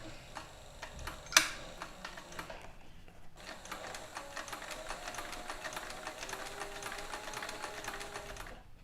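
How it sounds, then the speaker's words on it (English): A sewing machine stitches chap leather for a saddle swell bag in a steady, fast mechanical run of ticking needle strokes, pausing briefly near the start and then continuing alone and close. "We're going to hold it in place and start sewing it."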